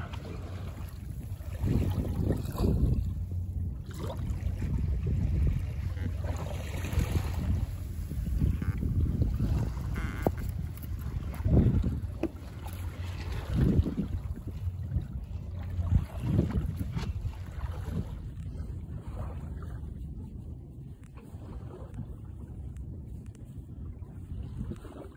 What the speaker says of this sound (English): We got every sail up right now, except for the A5